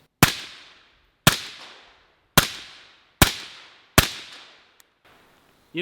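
Five sharp gunshots from a piston-driven rifle fitted with a CTS Engineering AKTIVE recoil buffer, fired at an even pace about a second apart, each loud crack trailing into a short decay, with no talking.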